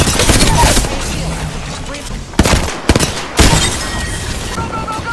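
Apex Legends gunfire crackles in a busy exchange, with a few sharp, louder bursts punching out near the end over continuous background game noise and some talk.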